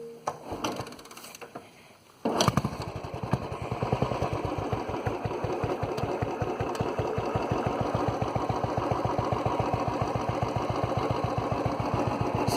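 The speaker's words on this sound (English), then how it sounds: "Keep it in idling for 2 or 3 minutes and then start the bike." A Royal Enfield Standard 350 motorcycle with a cold engine fires up after a brief quiet moment, then settles into a steady, loud, rapid thumping idle that runs on evenly and close by, with no talk over it.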